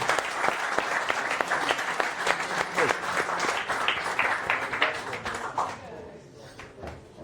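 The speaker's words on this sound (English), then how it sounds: "Can we have another round of applause?" An audience at a tech meetup talk gives a sustained round of applause, dense steady clapping from many hands that gradually thins and fades near the end, with a speaking voice in the room.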